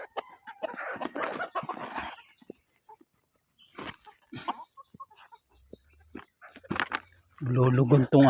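Hens cluck in scattered bursts close by, with a louder, sustained squawk at the end; a few other soft noises in between.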